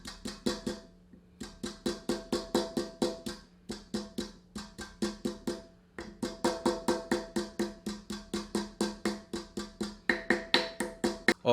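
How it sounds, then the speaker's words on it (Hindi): A piece of ginger is pounded on a stone silbatta with a little water. Loud, close, steady thuds repeat about three times a second, with brief pauses between runs. "इसके साथ ही इसमें 1 टुकड़ा अदरक को भी कूट लेते हैं।"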